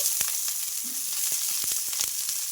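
Green chillies fry in a spoonful of oil in a kadai, giving a steady, fairly loud sizzle throughout, broken by several sharp spatters and stirring clicks.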